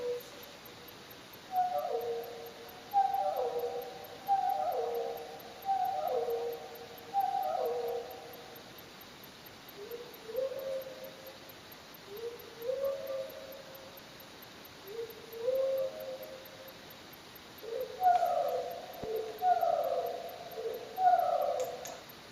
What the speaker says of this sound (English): song of a mockingbird